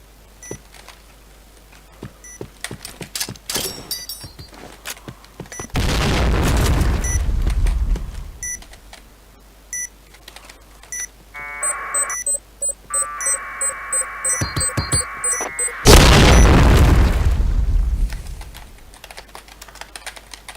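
In a video game, a planted bomb explodes twice in loud, close, roaring bursts that last a couple of seconds each, with rapid clicky keyboard-like tapping and electronic beeping tones between them.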